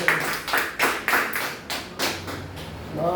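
A church worship congregation claps in rhythmic bursts, about eight loud claps in steady time, with a tonal hum of music underneath.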